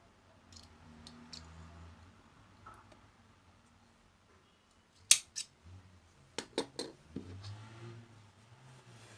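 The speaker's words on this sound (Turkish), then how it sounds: "İpi biraz uzun kesiyorum." Scissors snipping amigurumi yarn at a close table, a few sharp quick cuts clustered together after a quiet stretch of faint handling noise.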